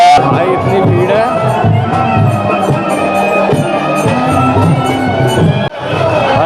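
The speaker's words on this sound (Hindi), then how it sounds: "भाई भीड़ देखो, पब्लिक कंट्रोल में नहीं आ रही है।" A dense festival crowd surges toward the Maharaj during Barsana Holi celebrations, a loud continuous roar of chatter, shouts and babble close by, with a brief sharp dip near the end.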